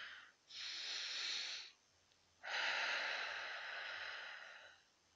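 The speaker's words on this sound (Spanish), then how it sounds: "toma una respiración profunda, inhalando por la nariz y exhalando por la boca. Lo hacemos juntos." Two long, slow breaths, each drawn in through the nose and let out through the mouth, soft and close with no talking, the second one longer and fading gradually.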